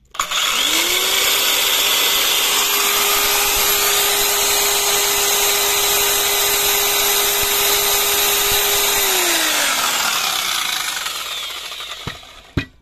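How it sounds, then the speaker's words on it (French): A 1200-watt circular saw powered by an ALLPOWERS S700 portable power station whines steadily at full speed for about ten seconds, then winds down as the motor spins out, ending with a sharp clunk. "on va faire l'essai sur la scie circulaire qui est quand même une 1200 watts"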